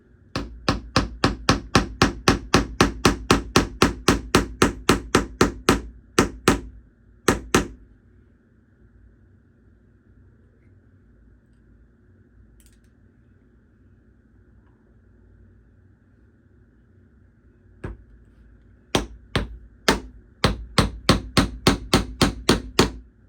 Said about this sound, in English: I try to get a tiny hammer that I don't use very often.